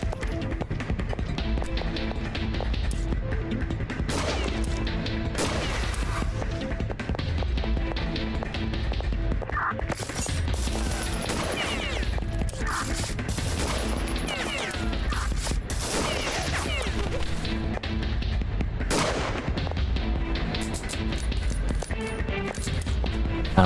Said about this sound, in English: I'm using my revolver